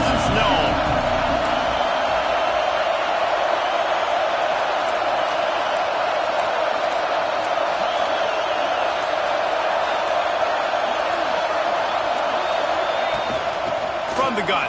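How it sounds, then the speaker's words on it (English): Dense stadium crowd roar at an Auburn at Arkansas college football game, a steady loud wash of many voices throughout with faint whoops and a commentator talking over it. "This crowd ready to make its presence known."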